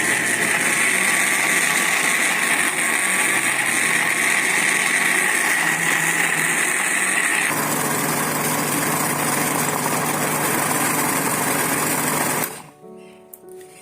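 A blender whirs steadily while grinding ginger and garlic into paste, its loud motor drone shifting pitch midway before stopping abruptly near the end.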